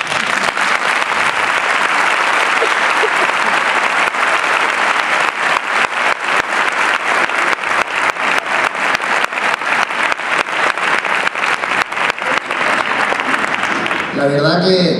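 Loud, sustained applause from a concert audience after a performance by the BSM Dos Torres band in Hinojosa del Duque, a dense wash of clapping that runs throughout and thins near the end.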